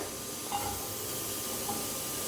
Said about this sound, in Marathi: कुकर बी आपली शिट्टी द्यायला लागलेला आहे।